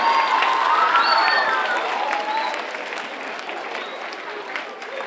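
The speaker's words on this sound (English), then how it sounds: "I want to hear everybody clap for your teachers." A school assembly crowd of children claps and cheers for their teachers, a dense loud wash of applause with excited shouts and whistles that gradually tapers off.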